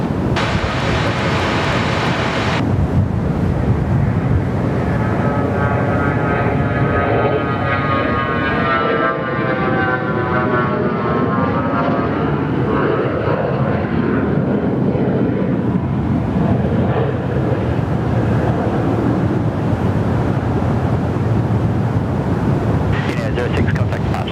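A Velocity airliner rolls for takeoff on runway 21 at Perth Airport, its engines building to a loud, broad roar with rising and falling tonal whine, mixed with wind buffeting the microphone, steady throughout.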